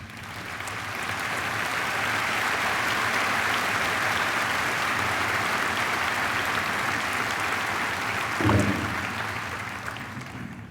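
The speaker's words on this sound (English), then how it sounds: "please join me in honoring John with a round of applause" An audience at a 2007 Wadsworth High School commencement gives a valedictorian a long, sustained round of applause, a dense, even roar of clapping from a large crowd with one brief thump near the end.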